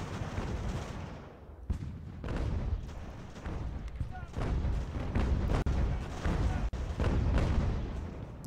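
Artillery and musket fire in the battle game Ultimate General: American Revolution, repeated booms and crackling volleys in a dense, continuous battle din, with someone talking over it.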